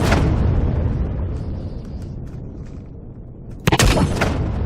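Heavy railgun shots in the Empyrion space game: a deep rumbling blast fades over a few seconds, then a sharp, loud double crack of fire bursts near the end.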